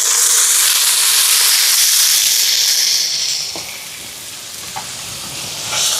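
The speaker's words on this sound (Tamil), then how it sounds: "இங்கே எண்ணெய் சூடாயிட்டு கடுகு சேர்க்குறேன்" Mustard seeds, fennel, curry leaves and onion sizzle in hot oil for a curry, a loud steady hiss with a few sharp pops near the end; it eases slightly halfway through, and no one speaks.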